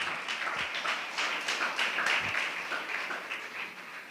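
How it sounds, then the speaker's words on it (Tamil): A church congregation claps hands in thanks to the Lord, giving a continuous patter of many quick claps at even loudness with no voices. "நல்ல கைத்தட்டி ஆண்டவருக்கு நன்றி சொல்லுவோமா?"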